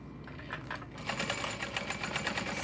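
A sewing machine stitches across the bottom seam of a messenger bag, a steady fast mechanical chatter of needle strokes that speeds up after a short slower start, close and clear with no talk.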